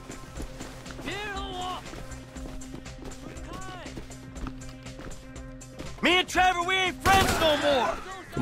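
Gunshots ring out in GTA V on PS3 during a heist mission, scattered single shots giving way to a heavy burst of rapid fire near the end, with a player talking throughout.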